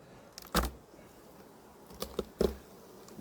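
Honeybees buzz around an opened hive at a June apiary, with a soft, scattered hum and a few brief, louder passes close by.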